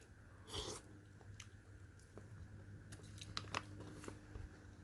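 Crunchy canned pears from a Canadian military ration being chewed up close, soft wet crunches and bites spread through the clip, with a few sharper clicks near the end.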